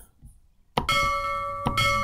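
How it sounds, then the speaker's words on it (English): A ship's bell sound effect plays when a button is clicked, a loud bright clang that rings on with a sustained metallic tone, struck again near the end. "if someone clicks on steel, it's going to make the ship's bell sound."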